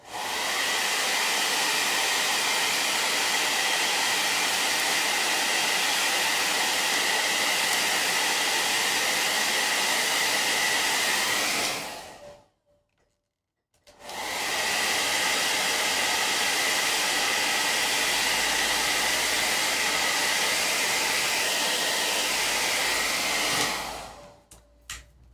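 A hair dryer blows steadily and loudly to dry paint on an autumn leaf painting, running continuously, cutting out for about a second midway, then resuming until it stops near the end.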